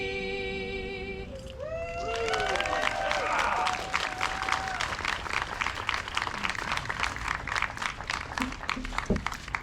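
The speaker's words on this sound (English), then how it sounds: "Another round of applause for all of our readers, our political leaders, and our performers" An outdoor audience at a Fourth of July reading of the Declaration of Independence breaks into applause, dense clapping and some cheering that swells after a sung passage fades and keeps going steadily.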